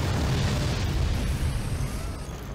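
Rocket explosions in the multiplayer strategy game Forts, a dense, continuous rumbling blast with heavy low boom that stays loud throughout, no talking over it.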